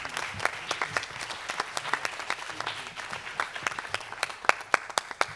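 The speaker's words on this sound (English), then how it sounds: "Give him another round of applause" A crowd at a gospel and rap performance gives a round of applause, a steady patter in which individual sharp claps stand out and grow sparser and more distinct toward the end.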